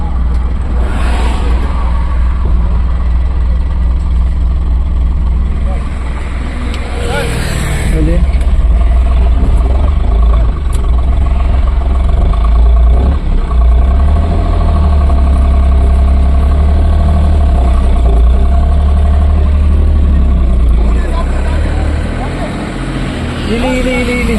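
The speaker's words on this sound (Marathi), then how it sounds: "गाडी चालू करायला सांग" A car engine in Mumbai starts and then idles steadily, with a continuous low rumble that stays loud and close for the whole stretch while people talk over it.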